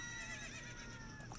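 A horse whinnies in the video game Zelda: Ocarina of Time, a short, high, wavering neigh heard fairly quietly over a low game background.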